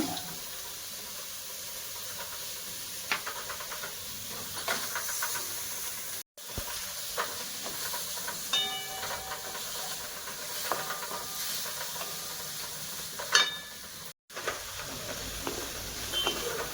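Tomato and garlic sautéing in a pan with onion for Pandharpur-style bajari amti make a steady, hissing sizzle that runs throughout, broken by two abrupt short cuts, with a few faint clinks.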